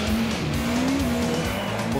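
A race car engine holds a steady, loud drone while its tires squeal continuously, with no pauses through the whole stretch.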